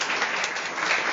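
A short burst of steady applause from a live lecture audience cheering a conductor, dense and even, lasting just over a second.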